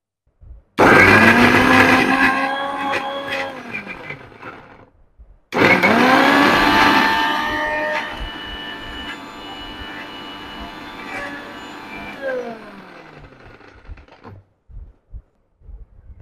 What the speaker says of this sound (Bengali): রসুন দিয়ে রাখছি, রসুনটা ব্লেন্ড করব